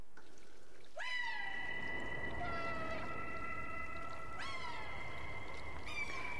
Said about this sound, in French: après cette petite vidéo de mes 2 petits chats, Sushi et Éclair.